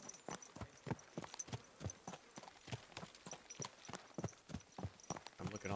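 Horse hooves clip-clop steadily on the ground in Kingdom Come Deliverance 2, a quick regular beat of sharp, fairly close knocks that carries on for several seconds, with faint background sound and no clear talk.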